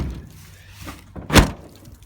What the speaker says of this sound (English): the front passenger side door opens